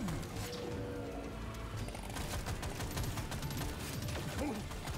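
Driller's flamethrower in the co-op mining shooter Deep Rock Galactic roars as a steady, dense rush of fire, broken by rapid crackling bursts and clattering game effects, loud and continuous throughout.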